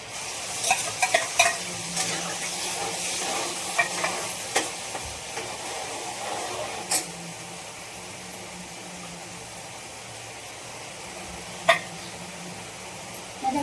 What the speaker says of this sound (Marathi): आता हा कांदा कच्चा वाटलेला टाकून देऊ.